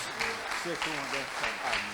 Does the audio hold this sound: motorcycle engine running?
no